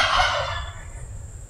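A turkey lets out a single loud, close gobble, a fast rattling burst that fades within half a second into a quiet low background rumble.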